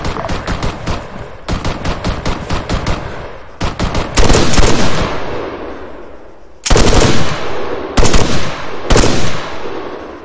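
Sustained machine gun fire in the ArmA 3 military shooter, with loud rapid bursts that break off and resume several times, close and dominant with no talking.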